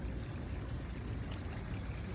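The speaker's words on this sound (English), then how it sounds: "So today I'm just pumping new water in with the hose" A garden hose turned up high runs water into a backyard pond, giving a steady, even gushing and trickling that holds without change and has no voices over it.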